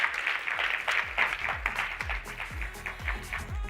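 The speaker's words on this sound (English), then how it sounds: "Let's give her a big round of applause as she comes up" An audience at an event on women in energy claps in a loose, patchy rhythm, individual claps distinct and fairly close, with soft low thumps scattered beneath and no talk over it.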